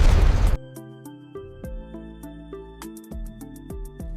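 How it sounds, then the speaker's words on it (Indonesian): A short, loud burst from a small explosion scattering stone debris cuts off abruptly, followed by plucked tonal music playing on its own. "Ledakan kecil terjadi, serpihan batu melayang di udara."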